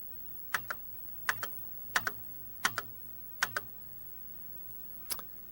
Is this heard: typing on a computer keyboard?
yes